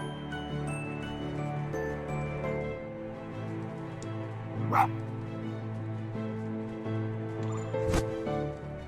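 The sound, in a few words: fox character barking in video game Spirit of the North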